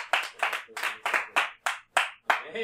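A church congregation claps in a loose, quick rhythm, with about a dozen sharp, close claps over a few seconds, loud and clear with nothing else behind them.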